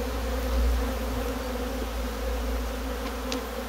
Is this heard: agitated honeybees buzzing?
yes